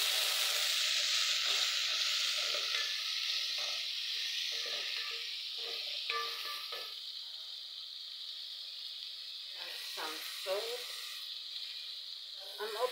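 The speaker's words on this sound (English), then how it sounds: "Now I'll put the onions," Tomatoes frying in a pan for an African dinner, a steady loud sizzle and hiss throughout with faint stirring clicks and scrapes, close up.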